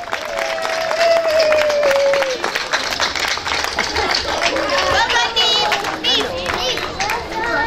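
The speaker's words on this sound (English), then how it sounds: "Give them a round of applause, ladies and gentlemen." Crowd applause at a summer festival grand parade prize giving, greeting the second-place Noah's Ark entry; steady, full clapping runs throughout while voices and chatter carry on over it.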